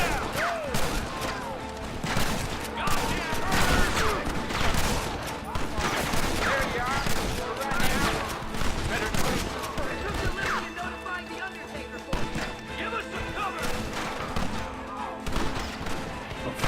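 Sustained gunfire rattles through a fort assault in the video game Red Dead Redemption, near-continuous overlapping shots and bursts filling the scene at steady loudness.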